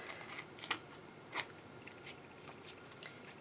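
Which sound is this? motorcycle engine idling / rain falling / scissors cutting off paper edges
scissors cutting off paper edges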